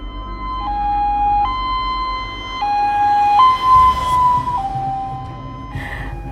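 An ambulance siren wails loud and steady, alternating between two pitches in a slow hi-lo pattern with a faint road rumble underneath.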